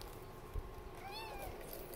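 Kitten meowing in a home, one thin rising-and-falling mew heard at moderate distance over a quiet room hum.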